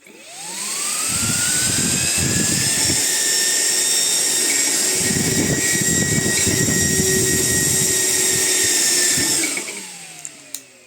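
A 22000 rpm computer cooler fan spins up to full speed with a rising whine, holds a loud, steady high-pitched roar for several seconds, then winds down.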